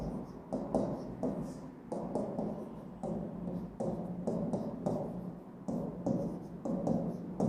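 Pen scratching out a Class 9 polynomial maths problem on paper, short rhythmic strokes in quick bursts with brief pauses between, close and fairly quiet.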